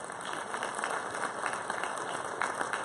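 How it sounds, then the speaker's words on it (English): Steady applause from a crowd at a high school varsity athletic awards ceremony, a dense, even wash of clapping that holds at a constant level throughout. "I think they all deserve a big round of applause"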